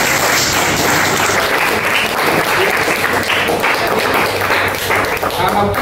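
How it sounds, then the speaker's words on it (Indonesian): A classroom group applauds during a practice teaching lesson. The clapping is loud and close and continues throughout, with voices mixed in under it. "Tepuk tangan."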